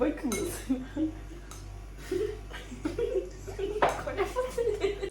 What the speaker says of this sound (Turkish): Bardak koyma sesi bile çok komik geliyor.